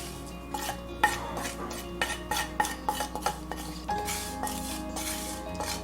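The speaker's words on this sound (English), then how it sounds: "Then I'm going to add my sautéed onions, and I am not straining the oil off of that." Sautéed onions with their paprika oil going into a pot for Romanian cabbage rolls, heard as a run of sharp metallic clinks and scrapes of a spoon against the pot, close and fairly loud, with soft stirring between the knocks.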